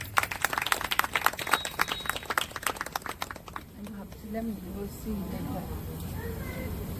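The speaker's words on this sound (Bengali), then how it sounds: "এবার আপনারা দেবশ্রী দাস বিশ্বাসের জন্য হাততালি দিতে পারেন" Audience applause at a Saraswati Puja cultural evening for a dancer: dense crowd clapping for a few seconds that thins and fades as a voice takes over.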